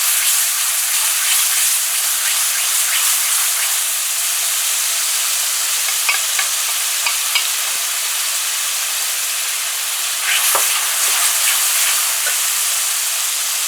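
Onion and curry paste frying in a pot for Guyanese chicken curry, a steady dense sizzle and hiss throughout with occasional light scrapes and knocks of stirring, close and alone.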